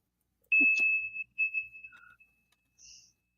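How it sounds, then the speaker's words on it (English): A high steady 2600 Hz tone from a Captain Crunch toy whistle, heard alongside a short ding and a few brief tonal blips, clear against near silence. "that was the Captain Crunch whistle that got you free phone calls in the 80s"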